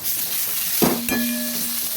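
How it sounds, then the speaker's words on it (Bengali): Pumpkin leaves fry in a pan with a soft close sizzle, broken by a couple of brief stirring scrapes and a clink near the middle, and no talking. "কুমড়ো পাতাটা সুন্দর করে ভেজে নিয়েছি, এবার নামিয়ে নিচ্ছি।"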